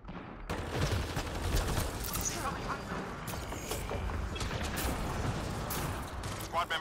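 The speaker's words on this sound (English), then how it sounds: "He shot me from cover." Gunfire and mechanical clatter in Mass Effect Andromeda during a multiplayer squad match, with shots crackling steadily across the stretch under ongoing game noise.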